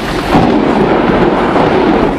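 Thunderstorm with heavy rain pouring down, a loud continuous low rumble of thunder over dense rain noise, sustained and close with no voices.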